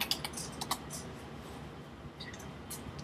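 Someone types on a computer keyboard, a quiet run of light, irregular key clicks and taps, close but faint with no talking.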